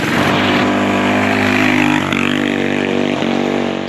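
A Predator Ghost 212 kart-racing engine on a Coleman BT200X mini bike runs loud and close, a steady high buzzing roar holding revs with slight rises and dips throughout.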